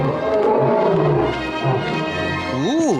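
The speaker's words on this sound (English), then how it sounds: "Ooh, there's a pretty roar. You don't often hear roars like that." Lion roaring in an animated Disney-style jungle cartoon, a long sustained roar rising into a wavering, vibrato finish, loud and close with no talk.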